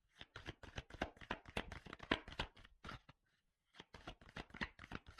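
Tarot cards being shuffled by hand, a rapid run of crisp flicking riffles close to the mic, a short pause, then another quick burst of shuffling, with no talking.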